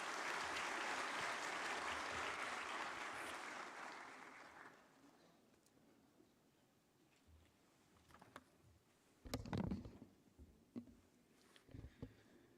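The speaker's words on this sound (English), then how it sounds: "Please welcome him with your round of claps" Audience applause at the IndianOil R&D Golden Jubilee grand finale event, a dense clapping wash that fades out after a few seconds, followed by quiet room noise and a few scattered knocks.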